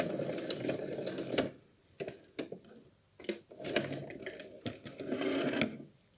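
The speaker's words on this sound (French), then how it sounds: "On fait notre point d'arrêt." Domestic sewing machine stitching a backstitch to lock the seam on a small fabric heart-shaped reusable wipe, short whirring bursts broken by brief pauses, close and moderately quiet.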